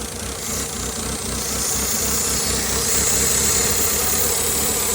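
A 2016 Mitsubishi Lancer engine idles roughly, a loud, close, steady rumble with an uneven buzzing hiss running continuously throughout.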